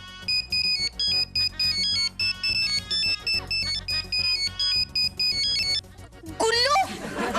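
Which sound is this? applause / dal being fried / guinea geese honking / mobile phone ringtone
mobile phone ringtone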